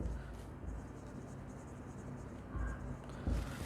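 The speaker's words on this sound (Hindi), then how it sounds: "तो यहाँ पर हम लिखते हैं परचेस" A pen scratches out a purchase entry in a handwritten accounting statement, soft close strokes with a few louder taps and pauses, over faint room noise.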